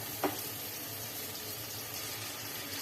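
Onions frying in a pan for a beef liver dish, a steady broadband sizzle that holds even and continuous throughout, with one brief sharper crackle near the start.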